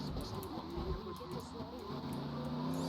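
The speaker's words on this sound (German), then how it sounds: "wir nehmen jetzt einfach das Auto" A car's engine hums and revs steadily while driving in the video game GTA Vice City, a faint continuous motor drone with talking over it.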